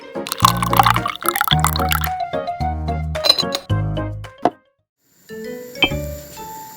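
Water poured into rice in a small pan for miniature stuffed squid, heard as several close, short pouring bursts with drips and light clinks, then a brief silence and a final clink.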